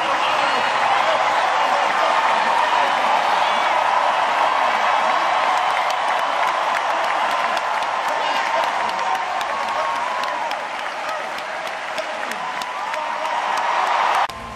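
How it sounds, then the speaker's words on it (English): Convention delegates cheer and applaud after a speech, a dense, loud roar of clapping and crowd cheering that holds steady throughout with no letup. "the convention ended with traditional exuberance, the delegates cheering"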